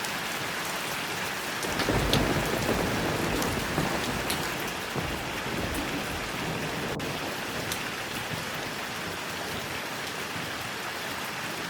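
Heavy unseasonal rain falls steadily on surfaces with a dense hiss and patter, swelling briefly early on and joined by a low thunder rumble, with no voices.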